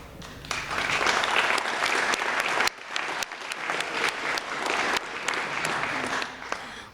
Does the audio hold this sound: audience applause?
yes